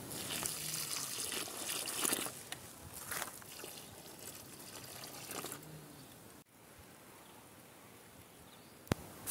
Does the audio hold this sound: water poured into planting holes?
yes